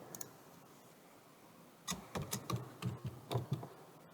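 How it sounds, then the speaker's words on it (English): Someone types on a computer keyboard: after a quiet start, a quick irregular run of close, crisp keystrokes clatters for about two seconds. "we will type in a county that we want"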